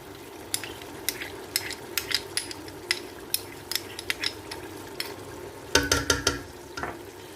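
Noodles frying in a pan as soy sauce and chili sauce go in, with crisp repeated scrapes and clinks of a utensil against the pan over a low sizzle, ending in a louder burst of stirring.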